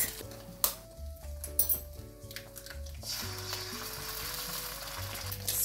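Eggs frying in hot oil with ginger garlic paste, stirred into small pieces for fried rice: a soft sizzle with intermittent clinks and scrapes of a utensil against the pan, fairly quiet with a faint tonal hum underneath.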